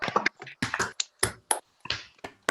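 Several online participants with microphones on clap in welcome for a speaker, producing sparse, uneven bursts of hand claps and snaps that start and stop irregularly, fairly quiet and close.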